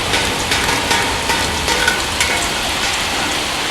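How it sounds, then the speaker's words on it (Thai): Steady, dense rain hisses loudly and continuously, falling on an apple snail pond, with scattered louder drops pattering close by. "กลางบรรยากาศฝนตกนะครับ"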